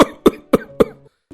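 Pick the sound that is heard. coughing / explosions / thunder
coughing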